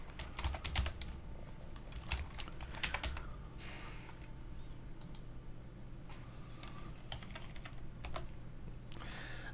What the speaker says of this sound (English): You can select this text and just type in what you want.